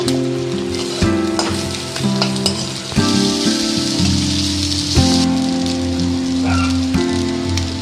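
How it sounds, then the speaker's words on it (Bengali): An egg fries in an oiled pan for egg chow mein, a loud, close crackling sizzle with clattering stirring knocks against the pan at intervals, over a faint steady hum. "এবার আমি ডিম ডিমটা ভেজে নেব"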